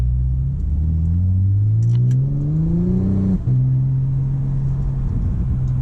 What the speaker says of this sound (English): Just gonna take it on a quick test drive around the block so you guys can hear it.